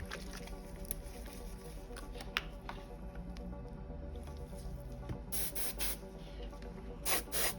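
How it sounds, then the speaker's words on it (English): Glossy varnish sprayed from an aerosol can onto painted miniatures, heard as two or three short hissing bursts near the end, each about a second long, over a steady low background hum. "So we'll use some glossy varnish."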